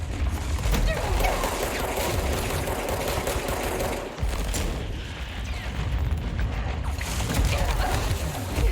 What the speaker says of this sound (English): There seemed to be both a lot of gunfire and a lot of incoming shrapnel.